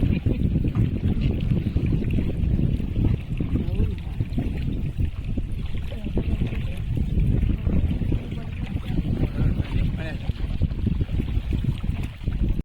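A wooden boat is rowed along a tidal creek in the Konkan, Rajapur area, with steady splashing and water noise close by and wind rumbling across the microphone throughout.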